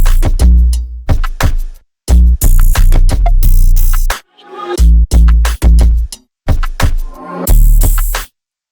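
Electronic drum beat in a produced track, loud punchy kicks and snappy hits in a choppy rhythm with abrupt gaps and a brief reversed swell, heard alone.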